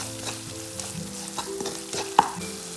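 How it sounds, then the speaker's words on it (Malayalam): Masala with salt is stirred and fried in a pan for papaya pickle: a steady soft sizzle under repeated scraping strokes of a spoon, with one sharper clink near the end. "ഇതെല്ലാം കൂടി ഒന്ന് മിക്സ് ചെയ്ത് കൊടുക്കാം."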